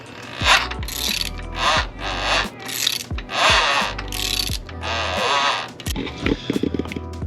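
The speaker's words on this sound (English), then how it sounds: "Noise you hear is just the starter chain." A Honda CRF110 engine with a 132cc big bore kit is rotated slowly by hand, its starter chain clattering and ratcheting in uneven mechanical clicks over a low rumble, close by and moderately loud.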